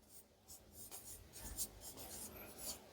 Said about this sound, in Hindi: देन यहां पर मैं लिख दूंगा